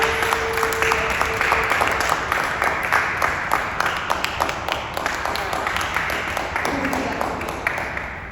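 Clapping from an audience at a theater event, a sustained patter of many hands with a faint tonal note early on, carrying through the full length at moderate loudness.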